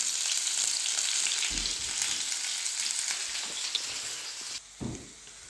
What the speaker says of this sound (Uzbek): Piyozimiz qovuryapti.